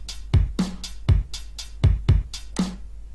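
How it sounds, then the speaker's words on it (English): A modified drum pattern from a music production program plays as a loop of punchy low kicks and snappy hits in a steady, even rhythm over a constant low hum, with no talking. "so now the drum sounds like this."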